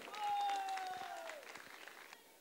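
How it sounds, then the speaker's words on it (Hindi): An audience at a dance competition elimination round applauds as a judge is welcomed to the stage, a crowd clapping under a loud amplified voice and a ringing tone, fading as the moment goes on. "एक जोरदार तालियां हो जाए।"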